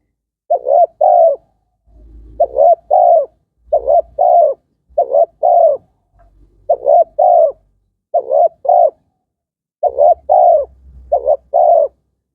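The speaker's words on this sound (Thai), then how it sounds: "ข้างหลังน่าจะเป็นนกเรียกรังครับ อยู่ต้นไม้เล็กๆใน ในข้างบ้านในข้างบ้านเขา" Wild bird calling repeatedly from a small tree beside a house, paired cooing notes in steady bursts with short pauses, clear and fairly close, with a faint low rumble between some phrases.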